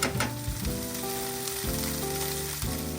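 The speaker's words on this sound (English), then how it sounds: "it's sauteing, it's browning, it's smelling wonderful" Broccoli sautéing and browning in a pan for a lemon garlic parmesan side dish, a close, steady sizzle broken by a few brief stirring scrapes, with no talking.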